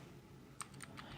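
Light, sparse keystrokes on a computer keyboard, a handful of quiet clicks in a short burst over a soft steady background hum, no voices.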